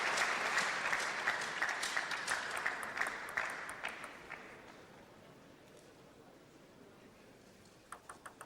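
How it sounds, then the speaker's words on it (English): Home crowd in Magdeburg applauding at a table tennis match between Ovtcharov and Wang Hao, loud sustained clapping that fades over several seconds, then a few scattered claps near the end. "OVTCHAROV being supported by his home crowd here in Magdeburg"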